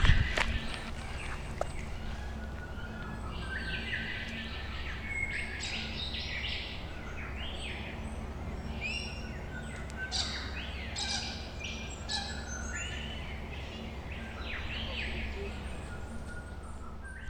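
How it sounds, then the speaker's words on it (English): Birds chirp and call in the bush, mostly distant and faint over a steady outdoor hiss, with occasional soft footsteps nearby. "Lots of birds out, although quite far away"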